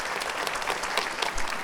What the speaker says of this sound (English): we want to give them all a round of applause.